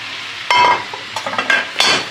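Minced meat stirred in a frying pan, a sizzling hiss with a few spoon scrapes and clinks coming in short bursts, close and fairly loud.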